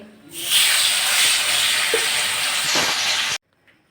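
Black carp fish pieces coated in salt and turmeric fry loudly in hot oil, a bright, hissing sizzle that surges in after a moment, holds steady with a few stirring knocks, then stops suddenly.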